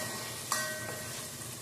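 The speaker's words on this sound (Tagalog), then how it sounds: "Ginisa na po natin yung bawang, ay luya." Garlic, ginger and onion sauté in a pan, a steady low sizzle with a single sharp clink of a utensil against the pan early on, close and moderate in loudness.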